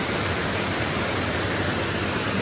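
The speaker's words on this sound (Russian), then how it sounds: "Это горные реки." Steady roar of a noisy mountain river beside a waterfall in the El Nicho reserve, Cuba, a dense broadband rush of water that stays constant and close without any letup.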